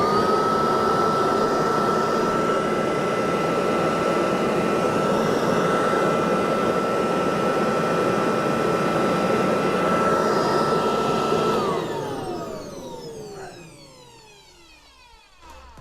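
A vintage Kirby upright vacuum cleaner runs loud and steady with a high whine, likely from a worn bearing, then its motor winds down near the end.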